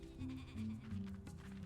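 Sheep bleat in the video game Tak and the Power of Juju, several wavering bleats following one another close and clear over a soft background of game ambience.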